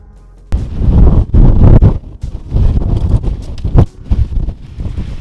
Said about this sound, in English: Dude, it's freaking windy.